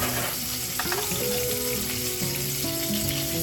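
Pork pieces fry in hot oil on an electric stove, giving a dense, steady sizzle throughout, with faint tonal hums and clinks beneath it.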